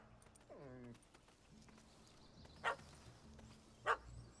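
In The Witcher 3, a dog gives a single short bark that sounds faint and distant. A few sharp clicks and soft game ambience follow.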